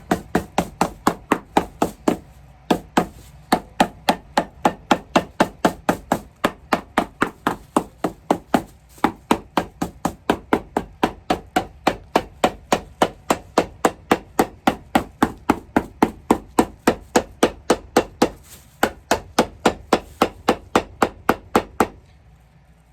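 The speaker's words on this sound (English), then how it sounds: "some people ask me why I'm hammering the sole to the shoe" A hammer strikes a shoe sole to set it onto a glued Hugo Boss shoe, dozens of sharp, evenly paced taps in a fast steady rhythm with a few short pauses, loud and close with no talking.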